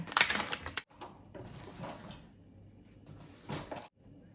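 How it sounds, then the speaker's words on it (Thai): A New York steak is stabbed with a utensil to make holes for marinating, giving bursts of sharp tapping and clicking in three short runs. The first is loudest, with quieter scraping between. "สักสเต็กนะคะสักให้เป็นรู"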